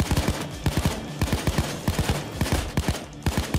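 Rapid bursts of gunfire against police in the video game Payday 2, sharp repeated shots in quick fusillades that keep going, loud and close with no talk.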